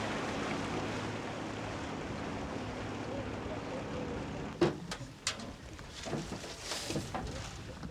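A motorboat engine drones steadily with rushing water and wind, followed by a few sharp knocks and splashes as the hull bumps along.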